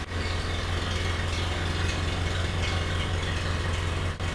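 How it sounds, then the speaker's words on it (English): An engine idles steadily with a low, even rumble and a faint mechanical ticking on top, close and continuous with no talk. "Listen to that idle."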